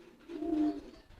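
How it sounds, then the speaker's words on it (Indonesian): A homing pigeon gives one short, low, throaty coo, close and soft against a quiet background. "Mantep kan merpati posnya?"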